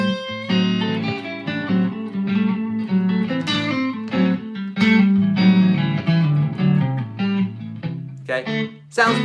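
An electric guitar solos in the pentatonic scale with a lightly driven tone, playing fluid melodic runs, bends and held notes over a low accompaniment. The playing is loud and continuous with no talking.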